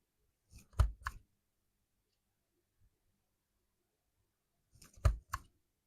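A word punch board punches paper banners: two separate bursts of sharp plastic clacks, each a quick double snap, close and crisp, with silence between them.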